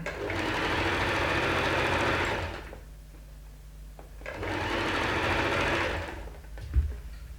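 A sewing machine runs two steady stitching bursts of a few seconds each through a fancy sequin-like fabric, a close, loud whirring hum with a quiet gap between and a small knock at the end.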